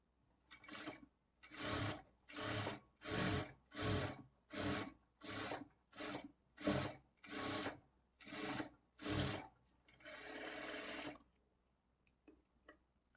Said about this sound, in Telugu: ఇదే విధంగా రెండో పార్ట్ కూడా స్టిచ్ చేసుకోవాలి